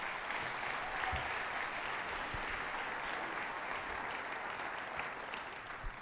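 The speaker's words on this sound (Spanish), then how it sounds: "Dale una ofrenda de palmas al Señor" A church congregation applauds together in a steady wash of clapping that lasts throughout, moderately distant and without talk over it.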